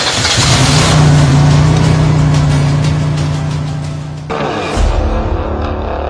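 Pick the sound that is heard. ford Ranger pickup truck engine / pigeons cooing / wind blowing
ford Ranger pickup truck engine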